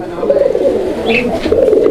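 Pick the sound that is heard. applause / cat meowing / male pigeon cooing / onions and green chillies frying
male pigeon cooing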